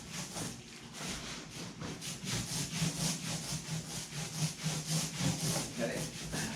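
Glue being rubbed by hand through a foam mat on a homemade burlap-and-foam kayak makes a steady run of rhythmic scrubbing strokes, close and fairly loud, with no talking.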